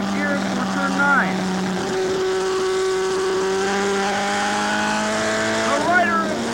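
An AMA superbike racing at Laguna Seca, heard onboard as it drops down through five gears braking for turn 9: a loud, steady engine howl with rising rev blips at each downshift.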